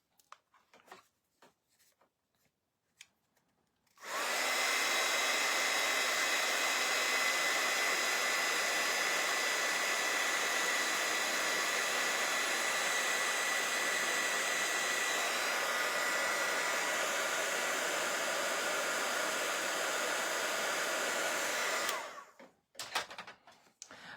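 A hair-dryer-style drying tool blows on fresh glaze, running as a loud, steady whoosh for about eighteen seconds and then cutting off, with faint handling noises before and after.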